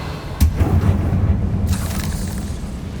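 A Confringo fire spell blasts in the video game Hogwarts Legacy, a sudden loud low boom followed by a few seconds of rolling, rumbling aftermath.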